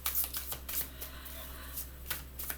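Tarot cards are shuffled and drawn close up, with quick papery riffles and flicks in bursts, fairly quiet, with no voice over them.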